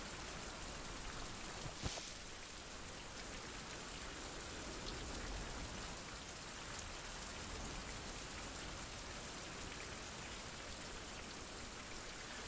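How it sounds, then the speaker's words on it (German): Steady rain falls in the survival game Survival: Fountain of Youth, a soft, even hiss of drops spread across the scene with one faint click near the start. "Und es regnet wieder, es ist wieder düsig"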